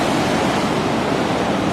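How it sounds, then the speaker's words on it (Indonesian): Strong ocean surf at Batu Hiu beach in Pangandaran, West Java roars steadily and close, a continuous loud wash of breaking waves with no voices. "di dieu di pantai batu hiu ombakna kencang"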